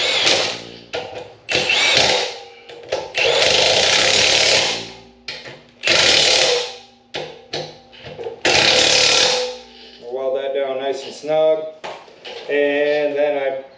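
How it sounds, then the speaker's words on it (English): Milwaukee power tool working on a rear axle truss for a 1999-2004 Jeep Grand Cherokee WJ, heard in several loud bursts of varying length, with tonal whining runs toward the end. "Use the old Milwaukee here."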